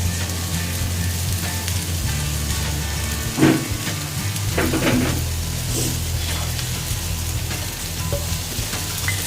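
Dried fish (maasi) fries with grated coconut in a pan, a steady soft sizzle under a low hum, with a few louder scrapes and clatters of stirring near the middle.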